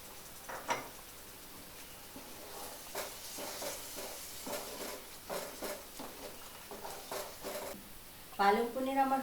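Hot water poured into a pan of cooking palak paneer, a soft sizzling hiss with gentle stirring taps, ending in a brief louder splash and bubbling.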